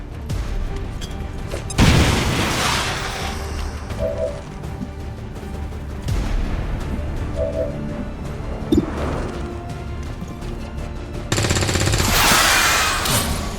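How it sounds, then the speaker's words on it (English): Bombs explode in XCOM 2 as a series of broad booming blasts, with a big hit early, another midway and a sustained roar near the end, mixed with scattered crackling gunfire-like bursts throughout. "Bombs away!"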